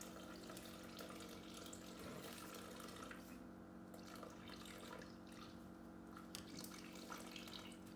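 Faint, steady trickle of 12 ounces of barely warm water pouring into a container for sourdough, a soft continuous stream with a low background hum and no talking.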